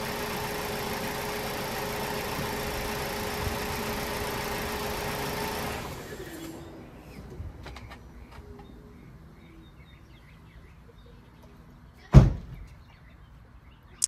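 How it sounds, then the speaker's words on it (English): A car engine idles steadily during a coolant flush, then shuts off about halfway through, leaving near silence broken by one sharp, loud door thud toward the end. "I'm going to go ahead and shut the vehicle off"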